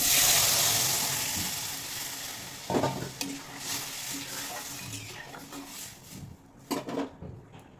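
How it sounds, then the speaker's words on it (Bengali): Boiled dal poured into fried mango in a pan, a loud initial hiss fading, followed by stirring scrapes and utensil knocks with a soft sizzle beneath. "বন্ধুরা আমটা একটু ভেজে নিয়েছি এবার এর মধ্যে দিয়ে দেবো সেদ্ধ করে রাখা ডাল"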